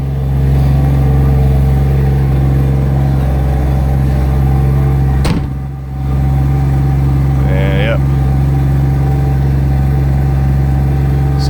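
A car engine idles steadily after a cold start, a loud, close, constant drone with a brief dip and a short clunk midway, and a faint squeak shortly after.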